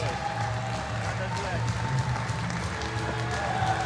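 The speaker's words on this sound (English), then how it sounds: "Even more cheering than during his first two attempts" A crowd at a 2015 para powerlifting championship in Almaty cheers and applauds a lifter, a steady roar of clapping and shouting that runs under a commentator's voice.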